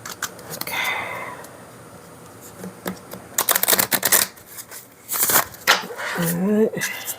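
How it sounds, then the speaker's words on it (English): Oracle card deck being shuffled by hand, papery riffles and slaps in bursts, with quieter pauses between handfuls and a voice speaking intermittently alongside. "Until I figure out another way to shuffle this deck."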